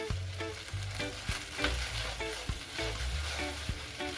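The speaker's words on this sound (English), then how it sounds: "After I'm done stirring" Egg-fried rice with kielbasa is stirred in a pan, steady frying sizzle broken by repeated scrapes and knocks of the utensil against the pan, close and continuous.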